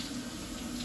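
Water runs from a kitchen tap in a brief, quiet, steady stream during dishwashing, with no voices.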